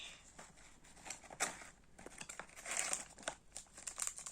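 A Sweet Box Cheburashka candy package has its plastic wrapper crinkled and torn open up close, with irregular rustling bursts and crackles. No one speaks over it.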